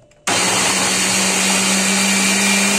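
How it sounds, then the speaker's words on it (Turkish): Food processor blending spinach and milk for a spinach cake, starting abruptly after a brief quiet moment and running as a loud, steady motor whir with a constant high whine. "Şimdi robottan geçiriyorum."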